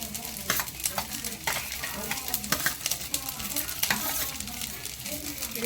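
Ingredients for coconut chutney fry in a pan with a close, constant sizzle, broken by repeated scraping stir strokes from a spoon.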